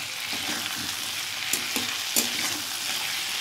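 Oil sizzles steadily as cauliflower and peas fry in a pan, with a few distinct scraping knocks from a spatula stirring the vegetables, close and clear with no talking.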